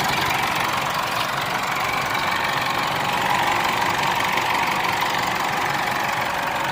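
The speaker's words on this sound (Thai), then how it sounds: "ก็สตาร์ทติด ปกติครับ ทำงานได้ปกติ" After a battery jump-start, a car engine runs at a steady idle, a continuous even hum with a faint knocking texture and no voices, close and moderately loud.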